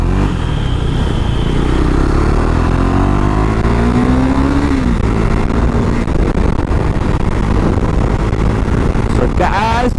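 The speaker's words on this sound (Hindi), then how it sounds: "सुबह के टाइम में गाइस इतना ज़्यादा ट्रैफिक रहता है ना यहाँ पे" A motorcycle rides through heavy morning road traffic, its engine droning loudly and steadily while other vehicles rumble nearby and one engine pitch rises and falls; a voice talks over the noise.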